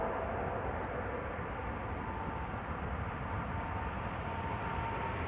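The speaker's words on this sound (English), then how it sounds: "This is KLM flight 685-7879 Dreamliner going to Mexico City" A seven-year-old KLM Boeing 787 Dreamliner at Amsterdam Schiphol, bound for Mexico City, produces a continuous, even jet roar with a faint steady whine, moderately loud and unbroken for several seconds.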